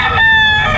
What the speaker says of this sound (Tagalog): Mayroon pang mga manok.